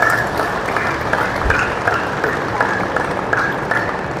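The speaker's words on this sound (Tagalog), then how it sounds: "Pumalakpak na yung mga tupa." Churchgoers at a sermon in Lemery, Batangas break into applause, a dense, steady wash of many hands clapping that fills the room for several seconds, with voices mixed in.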